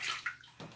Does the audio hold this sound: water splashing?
yes